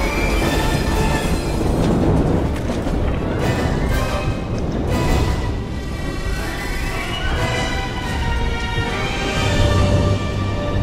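A train in Resident Evil 6 rumbles loudly and continuously, with dense mechanical clatter and rolling noise throughout, no voices heard.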